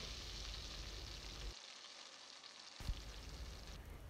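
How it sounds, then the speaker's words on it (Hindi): Tadka of chilies sizzling in hot oil for dal, a steady close frying hiss that drops out briefly midway, then resumes with a small clatter. "थोड़ा सा गरम करेंगे और इसका तड़का लगाएंगे।"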